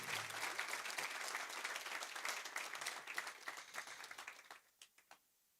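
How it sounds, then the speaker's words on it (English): An audience at a memorial building grand opening ceremony applauds the Board of Trustees, with full, dense clapping that thins out into a few scattered claps before stopping. "Big round of applause to my Board of Trustees."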